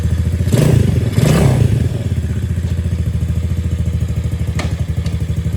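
A Coolster 3125R2 youth sport ATV engine fires up with a couple of brief revving bursts, then settles into a steady, close, putt-putting idle with a light clatter, and no voices.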